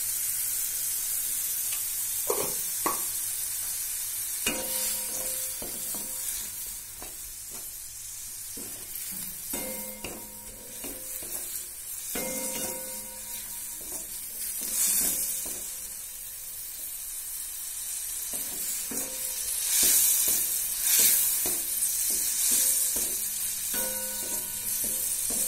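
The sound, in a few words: lote dry fish frying in a pan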